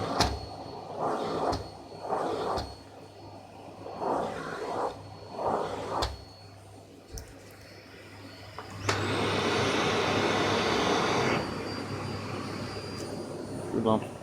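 A Rowenta Silence Force or Fakir Veyron Öko vacuum cleaner runs on carpet, starting up loud and steady partway through after a quieter stretch with talk and a faint motor hum.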